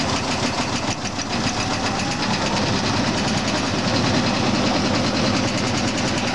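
Oliver 240 gravity table seed separator running at around 400 RPM, giving a loud, steady mechanical drone with a fast rhythmic knocking and vibration, continuous and close throughout, with no talk over it.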